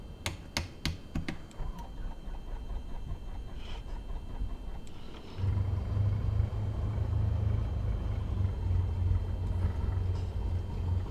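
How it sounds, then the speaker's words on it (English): Cessna 172 engine starting cold in Microsoft Flight Simulator 2024: sharp switch clicks come first, then a crank, and the engine catches and settles into a steady low rumbling drone for the rest. "we need to start the engine"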